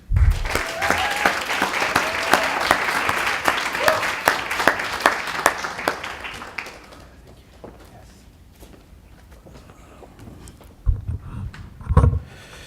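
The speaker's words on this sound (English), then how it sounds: "Please give Mubarak a big round of applause as he approaches the podium" Loud, dense audience applause at a college international student graduation ceremony as the valedictorian walks to the podium, fading out after about seven seconds into a quiet hall with a few soft knocks and shuffles.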